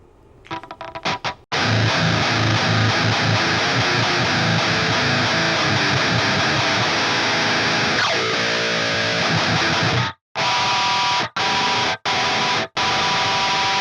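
Loud, heavily distorted electric guitar chords through a Boss Metal Zone pedal ringing out continuously, then cutting off into a few short, abrupt stabs with gaps of silence.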